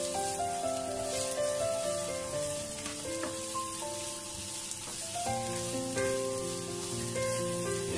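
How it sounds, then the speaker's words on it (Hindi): Onions browning in hot ghee in a pan give a steady, soft sizzle beneath louder background music throughout. "घी हमारा गर्म हो गया, अब मैं इसके अंदर प्याज ऐड करूँगा और मैं इसको हल्का सा ब्राउन करूँगा"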